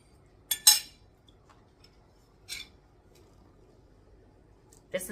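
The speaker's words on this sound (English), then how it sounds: "Let me get me a little saucer and a fork" A saucer and fork being handled in a kitchen while making pumpkin rolls from canned biscuits, heard as a few brief, faint clinks of cutlery against dishware separated by quiet pauses.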